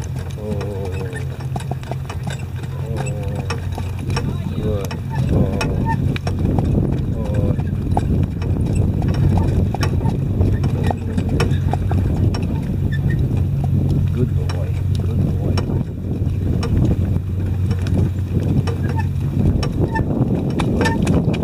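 Tennessee Walking Horse stallion hooked up for the first time, its hooves clip-clopping in a steady rhythm close by throughout, with someone talking over the hoofbeats.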